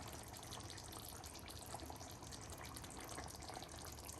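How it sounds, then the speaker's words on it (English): Thick coconut milk pours into a Kerala Malabar-style fish curry, giving a soft, steady liquid rush and splash that runs evenly throughout without speech. "I'm adding the precious coconut milk"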